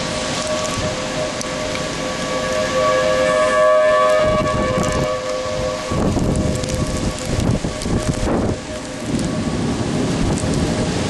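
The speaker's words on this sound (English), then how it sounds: "Storm Here comes." Severe thunderstorm during a Chicago tornado warning, loud steady rain with rolling thunder, while a civil defense siren wails as a sustained tone across the whole stretch.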